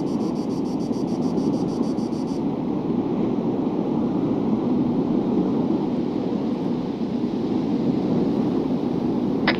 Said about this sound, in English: I hear your vehicle coming down the road.